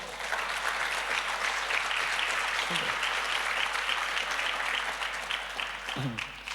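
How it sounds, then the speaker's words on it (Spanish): A church congregation claps steadily and fairly loudly throughout, with a couple of brief voice-like sounds poking through near the start and end. "Denle un aplauso al Señor por eso."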